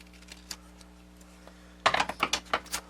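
Paper for a ticket booklet being cut by hand, a few faint isolated clicks followed by a close burst of quick, crisp snipping sounds in an irregular rhythm over a low steady hum.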